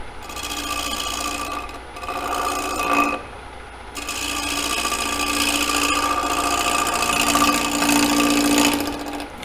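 A gouge cuts a square wooden bowl on a lathe with a loud, rasping scrape, in two long passes broken by a brief pause, steady and close with no talking.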